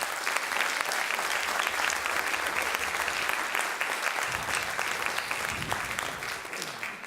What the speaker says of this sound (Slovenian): dajmo v začetku en aplavz vsem športnim dušam.